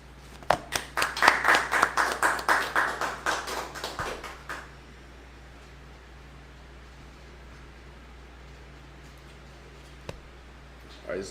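A congregation at a Sabbath service claps together in a quick burst of roughly a dozen close, fairly loud claps lasting about four seconds, then a quiet room with one faint knock.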